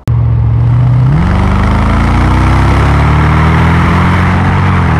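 A 2002 Mercedes SL 55 AMG with a supercharged 5.5-litre V8 starts and settles into a deep, loud, steady rumbling idle close by, with no voices.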